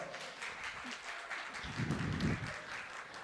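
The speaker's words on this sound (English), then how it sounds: "Give her a big round of applause." An audience at a leadership talk applauds for a few seconds, a fairly even patter of clapping that swells near the end, with a voice briefly heard underneath.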